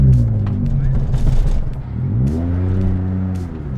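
A heavily tuned light car's engine idles with a low rumble, then revs up in a rising sweep and settles into a steady drone, with a voice talking over it.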